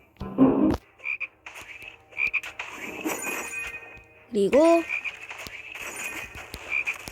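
Frog croaks sound in the video game Zombie School, a short croak early on and a louder one later, among scattered game effects while a person talks over them.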